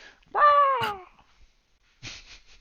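A person imitates a bird call with a single drawn-out, falling, warbling whistle-like hoot, loud and close, followed after a short pause by a brief burst of breathy voice.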